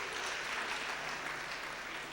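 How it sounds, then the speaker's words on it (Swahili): A church congregation at a Kikuyu-language Sunday School service applauding, a dense, steady patter of clapping from many hands held at an even level throughout the short stretch. "Tumpigia makofi akikaa chini."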